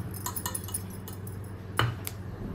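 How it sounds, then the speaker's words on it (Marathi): A small mixer-grinder jar handled in a home kitchen, giving light metallic clinks and rattles, then one sharper clank against a steady room hum. "बारक्या मिक्सरचा भांडा"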